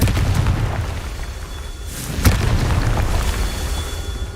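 A Confringo spell explosion in the video game Hogwarts Legacy, a loud booming blast with a sharp burst near the middle, with no talk.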